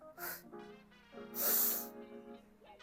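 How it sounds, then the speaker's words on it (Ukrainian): A person takes sharp, forceful inhales through the nose into the diaphragm. Two hissy sniffing bursts stand out close to the mic, the second longer and stronger, with faint breathy sounds between them. "І тепер робимо вдих, дуже різкий, дуже активний, сильний, в діафрагму через ніс"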